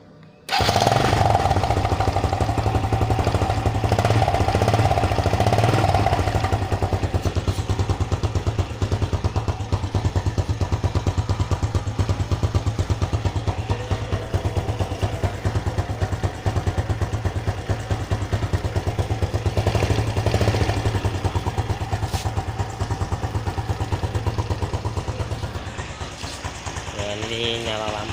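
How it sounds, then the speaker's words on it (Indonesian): Honda Blade Repsol 110 motorcycle from 2011 idling, its exhaust giving a loud, steady, rapid low throb that runs nearly unbroken for about half a minute, close to the microphone. "Jadi itu tadi suara knalpotnya."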